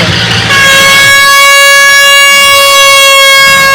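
A loud, sustained horn blares from a fairground toy-train ride close by, a steady multi-tone blast that holds for several seconds after a brief murmur of background noise.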